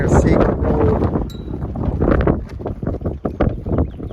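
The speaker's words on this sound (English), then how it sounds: "Today's a windy day down here, Sago Road," Wind gusting across an outdoor roadside at Sago Road, West Virginia, a steady low buffeting roar rumbling against the microphone, loud and continuous, with someone talking over it.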